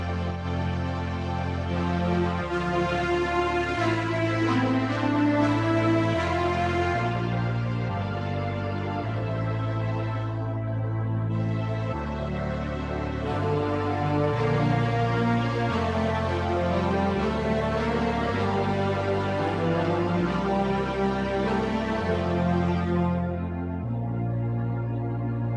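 Keyboard playing with an automatic full-chord fill, sustained chords swelling and shifting under a melody, continuous and full for the whole stretch with no talking.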